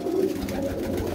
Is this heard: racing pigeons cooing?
yes